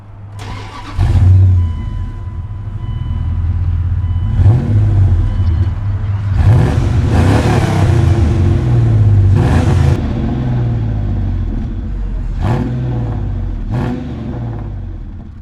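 A 1990s truck engine breathing through a 3-inch exhaust to a single large tip fires up and revs repeatedly, loud throaty surges rising and falling over a steady idle rumble.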